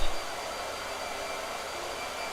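Blow dryer running steadily with a loud, even whooshing roar that starts abruptly and holds constant for a couple of seconds, with no speech over it.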